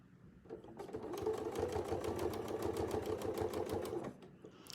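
A sewing machine stitches a free-motion quilted feather wreath in one sustained run of rapid, evenly spaced needle taps over a motor hum, starting and stopping cleanly, close and alone.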